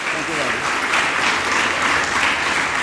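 A church congregation at Sunday Mass in Lahore applauds, dense and steady, close and loud, with clapping filling the whole stretch.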